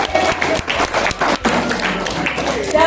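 Applause from a seated audience at an Indonesian business prospecting seminar, a dense patter of claps running throughout with some louder bursts, mixed with background chatter.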